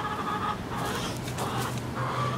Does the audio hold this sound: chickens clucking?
yes